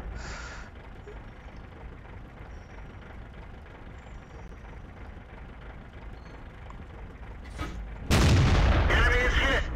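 Tank cannon fire in the video game World of Tanks: a steady engine rumble, then one loud, sharp cannon blast close up near the end, ringing out over the drone.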